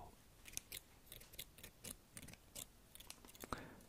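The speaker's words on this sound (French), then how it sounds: "J'ai été chercher une paire de ciseaux." Repeated crisp snips of scissors cutting, about a dozen quick cuts in an uneven rhythm, close and quiet.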